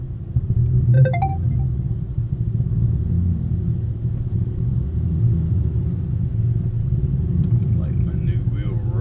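Motor City Wash Works car wash tunnel machinery rumbling steadily and loudly from close by, a continuous low drone with a few brief higher clanks and squeaks over it.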